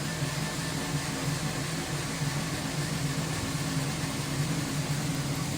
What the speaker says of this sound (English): Is it printing real fast? Yeah, that is 5 times the speed I had my old printer here.